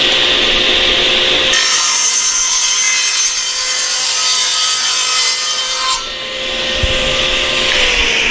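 A table saw cuts through wood as the board is held tight against a miter gauge for a backyard pavilion build; one loud, steady cutting whine runs for several seconds, then the blade spins down, with no talk.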